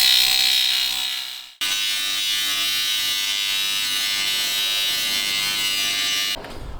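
A power tool cutting and shaving into a new car brake caliper gives a loud, steady high-pitched whine, briefly stopping once and then running on continuously before cutting off.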